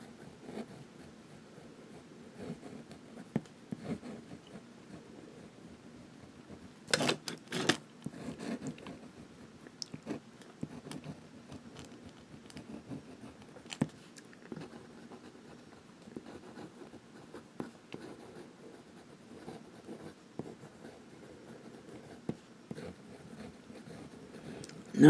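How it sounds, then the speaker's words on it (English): Calligraphy fountain pen nib scratching across paper, a soft dry patter of faint strokes with a brief louder rustle near the start, close and quiet with no talking. "I'll do some writing with this one."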